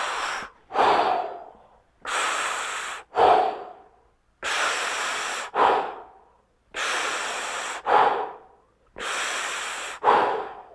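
Deep, slow breathing during a balance exercise, five long audible inhale-exhale cycles in a steady rhythm, each a loud, close breath with a sharper push at the end, no talking.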